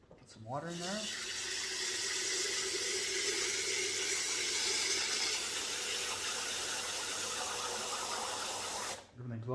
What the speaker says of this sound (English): Put some water in there.